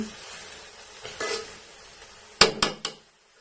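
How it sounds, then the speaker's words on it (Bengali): Cooked pulao rice for sweet zarda gets stirred in a pot: soft scraping and shuffling, then three quick, sharp metallic knocks of a spoon against the rim, close and clear before falling quiet. "এখন একটু নেড়ে চেড়ে নিচ্ছি।"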